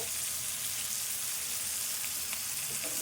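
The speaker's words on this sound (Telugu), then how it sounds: "పెట్టి కలుపుకుంటూ ఉండాలి కొద్దిసేపు, చేపలు ఫ్రై అయ్యేదాకా" Fish frying in a pan on a stove set low, a steady close sizzle and crackle throughout with faint stirring, no voices.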